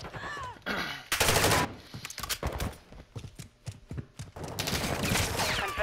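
Gunfire in the video game Call of Duty: Modern Warfare II: loud bursts of automatic fire and single shots in short, irregular volleys, with a sustained burst near the end.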